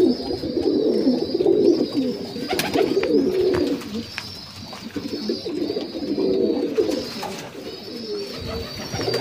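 Madrasi pigeons of the Arshad line coo softly and continuously at a home loft, a low murmuring chorus with occasional wing flutters and light knocks close by.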